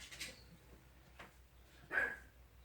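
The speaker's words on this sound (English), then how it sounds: "the dog's in there barking" A dog indoors near a hatching setup for Jersey Giant chicks gives a few faint, muffled barks from another room, with one stronger bark standing out against quiet room noise.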